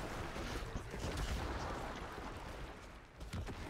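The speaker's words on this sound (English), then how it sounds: "I'm just killing them with the explosion from infinite tower shots" Repeated explosions from a Medivh polybomb in the Heroes of the Storm video game, heard as a dense, continuous rumble of blasts and booms that stays fairly quiet and low throughout.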